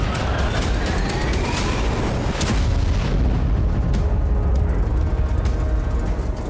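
Rocket and missile fire in war footage, heard as a continuous loud, heavy rumble of booms and blasts with dense low-end roar and scattered sharper cracks throughout.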